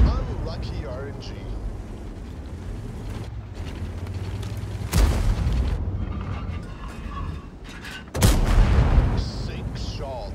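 Heavy tank cannon shots in a video game, two loud booming blasts a few seconds apart over a constant engine rumble, with talk in the background.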